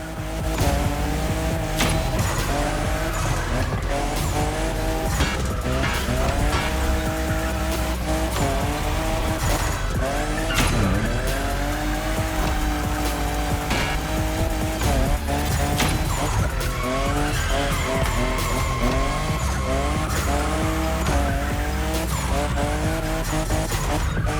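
A Toyota Supra, fifth generation, drifts hard in The Crew Motorfest, its engine roaring and tires squealing in long, sweeping howls under loud driving music that never lets up.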